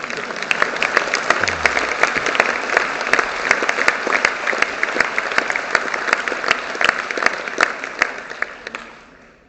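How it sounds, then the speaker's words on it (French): A presidential campaign rally crowd for François Bayrou breaks into loud, sustained applause, dense clapping throughout that tapers off at the end. "vous avez le droit d'applaudir"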